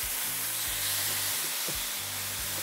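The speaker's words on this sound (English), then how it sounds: "it's all about that satisfaction of the sizzling as well" Chicken fajitas hit a hot sheet pan straight from the oven and sizzle with a loud, steady, close-up hiss. A low tonal hum runs beneath it, and no one speaks.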